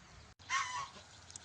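Chickens cluck in a short, fairly close burst outdoors around a rural farmhouse, with quiet background ambience before and after.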